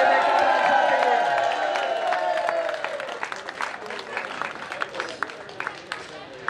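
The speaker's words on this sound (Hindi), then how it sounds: "आपकी जोरदार ताली में" Crowd applause at a cricket festival presentation ceremony, a dense burst of clapping and cheering that thins into scattered claps, with an announcer's voice over the start.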